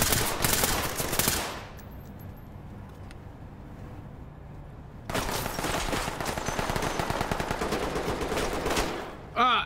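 Gunfire from the tactical police shooter Ready or Not, with rapid automatic bursts in two long stretches separated by a quieter pause, loud and close.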